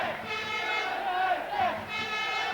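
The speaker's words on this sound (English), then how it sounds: "The crowd trying to get behind Waterford United." Football supporters at a Waterford United v Shelbourne FAI Cup semi-final chant and roar together in a sustained, droning crowd sound that swells and dips slightly, heard from a distance across the stadium.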